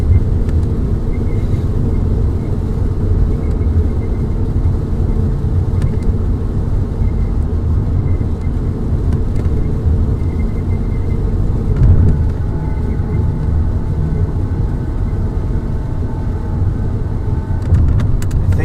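Inside a car driving through Hurricane Milton, a loud, steady road and engine rumble continues throughout, with oncoming traffic passing in the opposite lanes.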